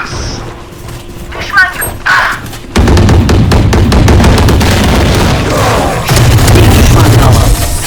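Gunfire from the Valorant first-person shooter: loud, rapid bursts of shots and booming impacts fill most of the stretch, with players talking and reacting over the game sound.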